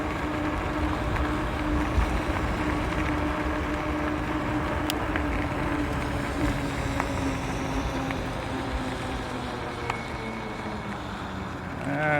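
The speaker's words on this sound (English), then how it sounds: "hopefully you're going to be able to hear my voice over top of the wind" Continuous wind noise buffets the microphone while riding a motorcycle wearing heated gloves, a steady broadband rush with a low engine drone underneath and no clear talking.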